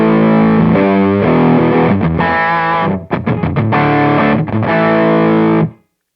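An electric guitar plays through a Charlie Paolo Bloodstone Overdrive, an IC-based TL071 overdrive pedal, with loud, evenly driven chords and a choppy, stabbed riff in the middle before the sound stops abruptly.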